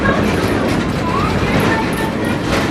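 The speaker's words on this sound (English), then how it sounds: "The train is now passing in back of Liberty Craft Works" The Edison steam train rumbles steadily past on the Wieser Railroad at Greenfield Village, a loud, dense rolling roar with faint clatter throughout, while a voice talks over it.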